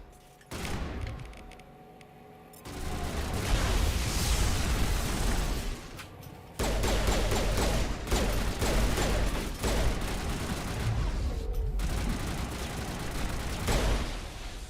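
Grenades and gunfire in the video game Mass Effect, heard as loud rolling booms and bursts of popping fire that continue for several seconds, with brief drops between blasts.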